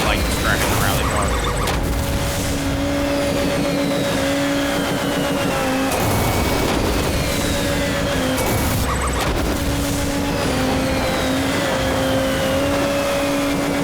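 A rally car's engine roars in the racing game Motorstorm: Monument Valley, loud and constant with steady revving pitch, gear shifts and crashing impacts breaking in, while a voice talks over it.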